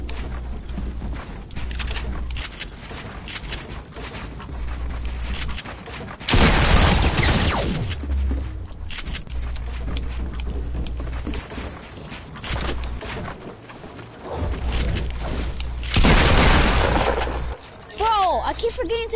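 Video game battle with rattling gunfire and two heavy booming explosions, loud and close, while players talk throughout.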